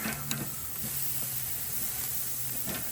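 Potatoes and mushrooms searing on a Weber 26-inch kettle grill give off a steady, close sizzle and hiss, with a few faint clicks and no talking.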